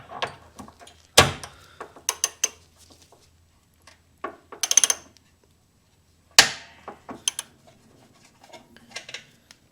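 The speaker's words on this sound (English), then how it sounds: "we're going to have to unbolt it from the bracket, and I'm going to be using a 90mm deep socket" A ratchet with a deep socket and extension loosens the bolts of a rubber engine mount on an FD RX-7. It makes scattered sharp metallic clicks and clunks in irregular bursts against near silence.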